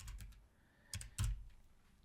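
Brief bursts of computer keyboard typing as a command is entered, a few quick keystrokes near the mic, then a pause and a louder short cluster of key presses, fairly quiet overall.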